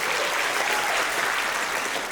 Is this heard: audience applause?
yes